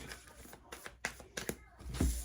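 Tarot cards are shuffled by hand in a few quick, soft riffling bursts, quiet and close, with a brief fuller rustle at the end.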